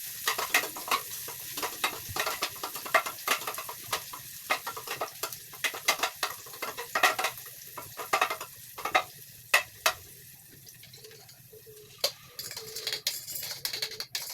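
Onions sauté in a pan before egg is added, stirred with rapid, irregular spatula scrapes and taps over a constant light sizzle, close and fairly busy, without any speech.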